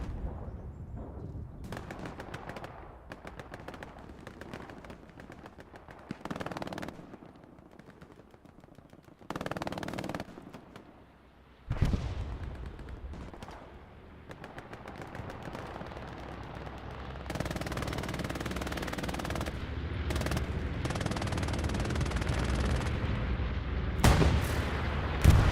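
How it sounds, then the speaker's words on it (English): Bombing run explosions and gunfire in a D-Day multiplayer video game, heavy booming blasts and bursts of shots in uneven clusters, building into a sustained loud barrage of rumbling detonations toward the end. "Another bombing run has been called in at a nice angle along with an airhead."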